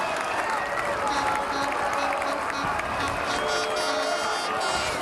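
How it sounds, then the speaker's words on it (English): A large football crowd at Clitheroe Football Club greets the blue-and-white team with sustained, dense applause and cheering, a steady roar of hands and voices that holds loud and even throughout. "A rapturous applause."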